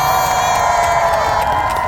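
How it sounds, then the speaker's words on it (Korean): A festival crowd of fans at an outdoor stage cheers and claps continuously, a dense roar of voices and applause holding steady, with a bright sustained tone running under it. "이분들께 박수 한 번만 보내주시길 바랍니다"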